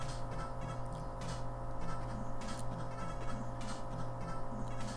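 Sheep bleating in an NES video game, a chiptune-style bleat repeating over looping 8-bit background music at steady volume.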